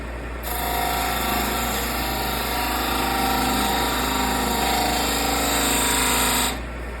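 A wood lathe spins a small bud vase while a smaller spindle gouge cuts the wood, giving a steady, close whirring drone with a high ringing edge that holds evenly for several seconds, then stops.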